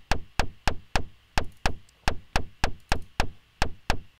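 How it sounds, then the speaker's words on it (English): Percussion hits from an Ableton Live drum rack in a straight, evenly spaced rhythm: sharp knock-like clicks repeating steadily about every third of a second, close and dry. "I've got this other drum rack here and I've got this percussion sound in it"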